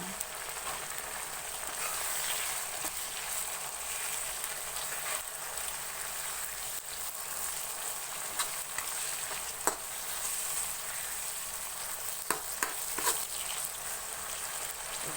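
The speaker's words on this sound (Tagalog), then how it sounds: "ginisa ko muna ang kangkong" Kangkong (water spinach) sautéing in a hot pan, a steady close sizzle with a few brief scrapes and taps of stirring, no talking.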